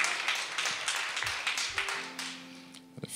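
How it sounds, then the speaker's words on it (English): A church congregation claps hands in praise during a Communion Sunday service, a broad wash of many overlapping claps at moderate loudness that thins out toward the end as a sustained organ-like tone enters. "Y'all give the Lord a hand clap of praise."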